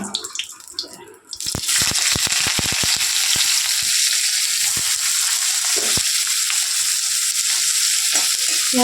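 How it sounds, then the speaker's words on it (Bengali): Onion frying in hot oil gives a loud, dense, continuous sizzle close by, starting after a quieter moment with a few sharp crackles and pops scattered through the hiss. "তেলটা গরম হয়েছে এর মধ্যে পেঁয়াজটা ভেজে নিয়ে"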